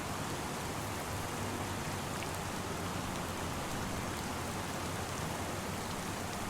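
Steady rain in the video game Farming Simulator 25 hisses evenly and continuously, a soft broadband patter with no voices or other sounds.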